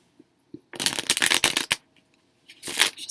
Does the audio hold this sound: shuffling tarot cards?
yes